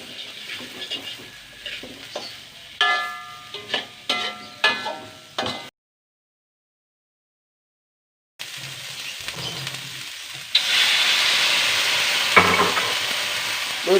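Broccoli and button mushrooms stir-fried in a pan, with spatula scrapes and clatters at first, a short silence, then a steady loud sizzle.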